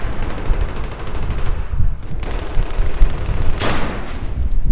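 Rapid, loud bursts of automatic gunfire crackle in a Battlefield 3 multiplayer match, with several sharp volleys and short gaps across a few seconds.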